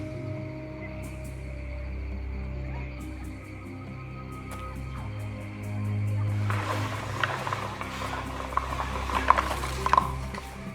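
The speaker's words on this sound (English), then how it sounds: "This winch holds the crate hanging from the cable." Ratchet winch holding a hanging crate in the video game Secret Files Sam Peters, a series of mechanical clicks and creaks over a low steady hum, growing busier and louder in the second half, with no talk.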